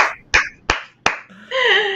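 Hands clap several times in a quick, uneven sequence, each clap sharp and close, followed by a brief stretch of voice at the end.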